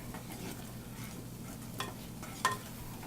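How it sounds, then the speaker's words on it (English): A pot of liquid boils hard over high heat while ham cooks, giving a steady close bubbling and sizzling hiss with a few brief clinks, and no voices. "We're already boiling."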